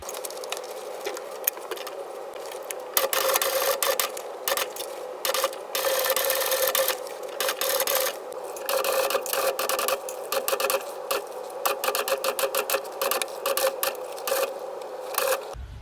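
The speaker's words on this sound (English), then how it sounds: "I am done sewing the gusset to the front and back." A sewing machine stitching the gusset to the front and back of a tote bag, a steady rapid patter of needle strokes in long runs broken by brief stops, close and clear.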